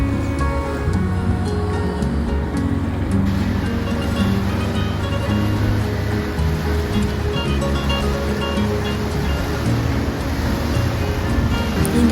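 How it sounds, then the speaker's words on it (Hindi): Water pours steadily from the Dhani waterfall in the mountains of Kashmir, a loud, continuous rush of falling water and spray close by, with no pauses. "ये देखिए पानी की फुहार"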